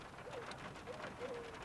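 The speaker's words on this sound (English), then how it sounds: "Got the sound of a wood pigeon in the background." A wood pigeon cooing faintly in the background of a calm village, three soft low coos over a steady wash of ambient hiss.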